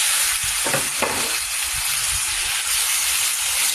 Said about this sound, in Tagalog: Magigisa na tayo. Hulog na natin itong bawang at sibuyas.